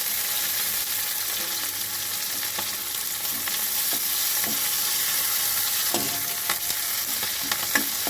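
Green chillies and curry leaves sizzle steadily in hot oil for chicken 65, a dense continuous crackle with scattered sharp pops and occasional stirring clinks, no voices.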